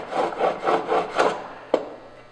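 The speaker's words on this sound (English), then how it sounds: "So working this burr is basically gonna be back and forth for a while." A timber frame chisel slides back and forth on a sharpening stone in about five steady, even rasping strokes, close and clear, ending with a single sharp tap.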